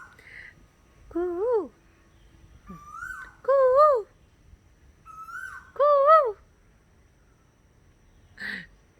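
An Asian koel calls during a morning walk, answered by a person imitating its call. Several clear, rising whistled notes come in separate bursts with pauses between them, and faint outdoor background sits underneath.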